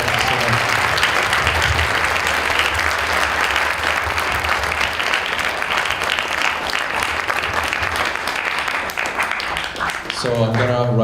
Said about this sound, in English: Round of applause for Dr. Sibanda.